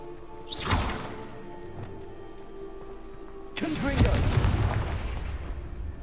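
A Bombarda explosion spell in Hogwarts Legacy goes off as a loud burst with a sharp whoosh early on, followed by a second heavier blast that rumbles and decays over several seconds.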